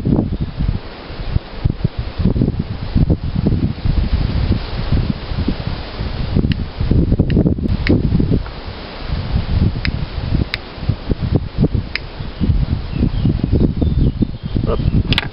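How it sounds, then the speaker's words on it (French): Gusty wind outdoors, buffeting the microphone in uneven rumbling bursts with rustling between them, loud and close throughout. "il y a du vent"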